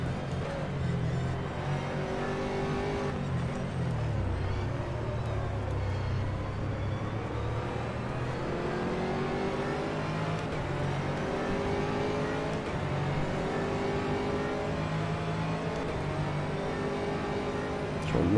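A GT3 race car in the rFactor 2 video game, lapping Mid-Ohio. The engine drones continuously and closely, its pitch climbing and falling through gear changes as the car rises and backs off through twisty corners.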